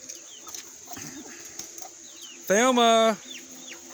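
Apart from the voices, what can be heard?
hen clucking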